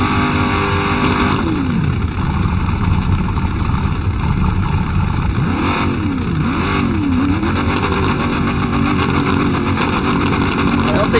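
Car engine in the Roblox driving game Driving Empire revving repeatedly, a loud continuous drone with rising and falling pitch swells as the throttle is pumped, steady and close throughout.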